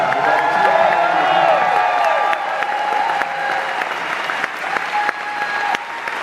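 A theatre audience at the Arts and Culture Centre in St. John's applauds and cheers in a sustained burst of clapping with whoops, strongest at first and then slowly easing.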